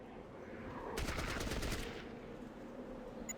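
A short machine-gun burst in Fallout Tactics, around a second of rapid close shots over a steady low game ambience.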